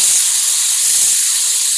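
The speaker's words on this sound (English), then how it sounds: "on some of the spray guns" A spray gun blasts a steady, loud hiss of compressed air in a continuous burst with no talk over it.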